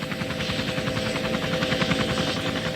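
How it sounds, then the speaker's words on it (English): A Chiltern Air Support police helicopter hovers overhead, its rotor producing a steady, loud, rhythmic thudding with a constant engine whine, heard alone. "this car is no match for the Chiltern Air Support helicopter"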